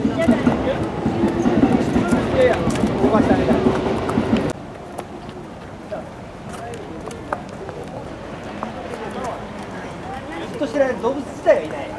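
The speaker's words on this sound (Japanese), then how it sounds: "後ろの電車の音です。" A loud train rumbles past behind people talking at a street speech near Itabashi Station, Tokyo, its broad roar filling the first few seconds before cutting off abruptly to quieter background.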